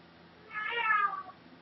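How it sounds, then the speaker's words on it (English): A house cat meows close by indoors, one drawn-out, rising and falling call lasting about a second, heard alone with no talk over it. "And now my cat is meowing."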